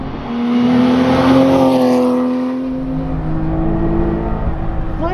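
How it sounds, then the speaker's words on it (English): A Guntherwerks Porsche 993 Speedster's engine revs up in a smooth rising whine, holds, then eases off and settles into a steady drone, loud and close, with no talk over it. "that is a frictionless engine."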